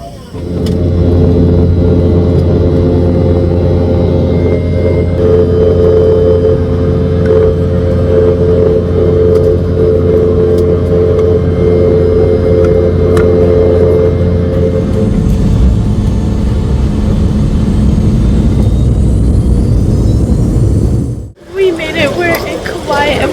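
A small airplane engine drones loud and steady, a deep humming tone that holds for about twenty seconds before cutting off abruptly near the end.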